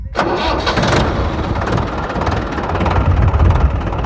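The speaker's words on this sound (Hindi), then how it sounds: "तो भाई अगर ये डबल डिस्ट्रीब्यूटर ऑन है तो ये जो है भाई ये तो ऐसा आवाज़ करेगा" A tractor engine cranks and fires up, then settles into a loud, close, rumbling idle with a steady throb.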